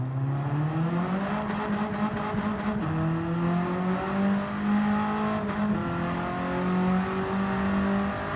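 A fully upgraded Peugeot 205 GTI engine in Gran Turismo 7 revs up and climbs through gears, a loud buzzing whine that steps down at each shift and keeps pulling steadily.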